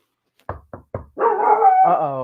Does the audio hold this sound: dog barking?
yes